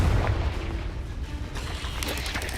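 A Confringo blasting spell detonating in Hogwarts Legacy, a loud booming burst with a low rumble that fills the moment, followed by rolling crackly debris and lingering combat noise, no voice over it.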